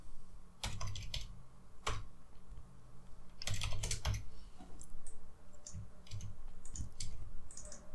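Keys clacking on a computer keyboard while text is typed during editing work in ArcGIS Desktop, heard as a few separate bursts of keystrokes with short pauses between them, close and fairly quiet, with no one talking.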